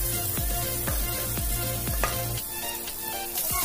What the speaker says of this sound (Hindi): प्याज आम भल भाव ब्राउन होगा पर्यंत या भाजुवा